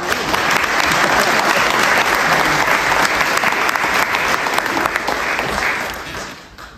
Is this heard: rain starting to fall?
no